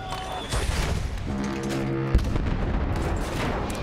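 A Battlefield 1 artillery gun fires a single deep, punchy shot amid ongoing wartime game noise and a rumbling low background.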